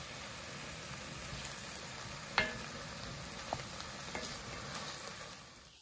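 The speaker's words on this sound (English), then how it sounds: "So we're gonna let that cook, get the chicken cooked through." Quiet, steady sizzling of chicken cooking in a pot, with an occasional soft clink or tap, no voices.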